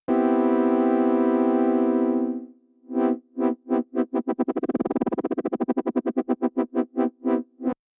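A sustained synth tone from the Synapse Obsession holds, fades, then returns as a rapidly pulsing, chopped tone whose periodic modulation rate speeds up and slows down.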